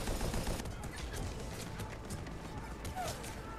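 Double cannons firing in the sci-fi game Mass Effect 3 during an assault on Omega, a dense rumbling barrage of rapid heavy shots rolling on steadily with a loud burst at the start, voices heard faintly beneath.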